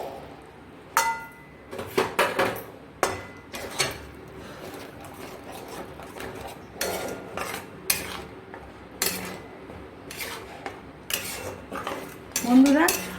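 Custard and milk mixture stirred in a metal pan, the spoon scraping and clinking against the pan in irregular bursts for the whole stretch, close by and fairly loud.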